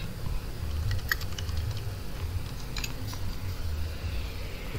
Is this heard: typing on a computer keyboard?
yes